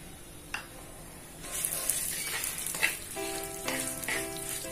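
Lilva kachori stuffing cooking in white oil in a pan, with steady close sizzling and frying crackle throughout, brief stirring clinks and scrapes rising over the hiss in the second half.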